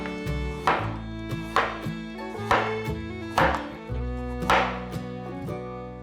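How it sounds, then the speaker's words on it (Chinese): A knife slicing a sweet potato thinly on a cutting board, with about seven crisp, evenly spaced chops close by and a sustained tonal hum underneath. "把地瓜切片，切薄一点，因为等一下要拿去蒸。"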